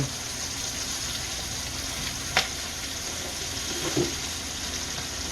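Quiet, steady sizzling of chicken cacciatore in a pan, a soft continuous hiss with a couple of brief clinks or pops.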